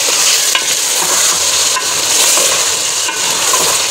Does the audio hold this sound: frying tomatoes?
yes